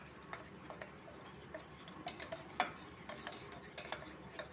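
Custard mixture for a fruit salad being stirred smooth in a bowl, faint irregular spoon ticks and light scraping against the sides, quiet and close, with no voices.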